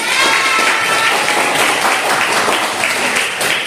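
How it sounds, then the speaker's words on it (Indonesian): Classroom group applause from teachers in a positive-culture training session, a dense, steady burst of many hands clapping at close range that holds throughout, with faint voices mixed in. "Tepuk tangan untuk kita."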